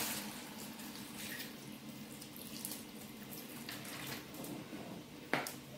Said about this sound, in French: Et je rajoute l'eau.